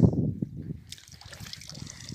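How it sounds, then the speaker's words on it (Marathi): Two animals drinking water at midday on a farm, with soft trickling and sloshing sounds close by, fairly quiet and without talk. "तर आता हे दोन पाणी पितात विजय आणि पलीकडं गंगा आहे"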